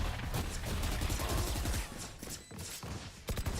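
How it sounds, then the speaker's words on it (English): Rapid gunfire from a Valorant match, dense overlapping bursts of shots with brief gaps, loud and continuous through the moment. "Another clean sweep with NB1 gaining 4K with his ult"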